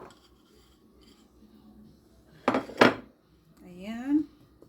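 A spoon scrapes and clinks in a bowl of apple pie filling with cornstarch, two short close bursts of stirring, followed by a person talking.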